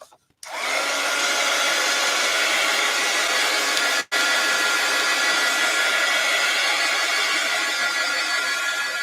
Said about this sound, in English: What did I do with my heat gun?